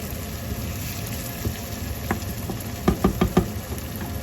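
Coriander and garlic frying in a pan for a harraq isbaao dish: a steady, soft sizzle, with a few sharp knocks of a utensil against the pan near the end.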